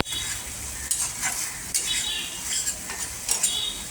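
Water goes into fried, oil-separated masala for a prawn curry, and a bright, steady sizzle rises from the pan, punctuated by soft scrapes and clinks of a stirring spoon, with no voices.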